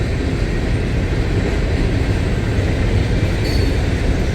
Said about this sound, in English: Coke trains galore here in West Pittsburg.